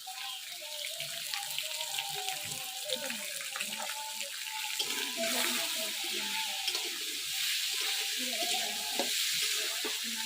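Radish pieces sizzle and fry in a pan for a Bengali katla fish head curry, a steady close crackle with stirring throughout.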